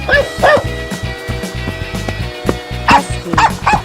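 A dog barks in short bursts, two quick barks at the start and a cluster near the end, over a thumping rhythmic music beat.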